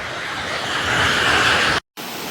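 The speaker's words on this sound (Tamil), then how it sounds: "பாலத்துக்கு கீழால் த வெள்ளம் ஓடிக்கொண்டிருக்குது" Floodwater rushes beneath a bridge near the breached Muthaiyankattu tank dam in Mullaitivu, a loud steady broadband roar of fast-flowing water that briefly cuts out near the end.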